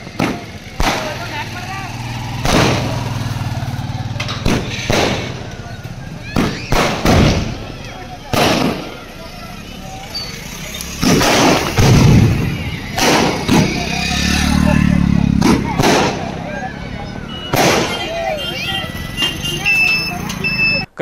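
Firecrackers burst at the opening of a vintage amusement park near Kadavad village in Bidar taluk, Karnataka. Sharp, loud cracks and thuds come in an irregular series, mixed with crowd noise, and people talk throughout.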